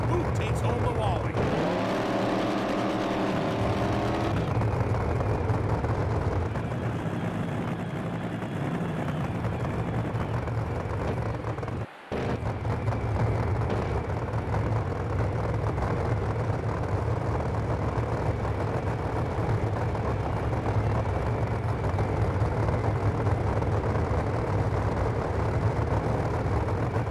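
Pro Mod drag race car in an NHRA drag racing video game, a loud sustained engine roar running the whole stretch with a brief cut partway through, game crowd and track noise beneath, and a voice talking over it.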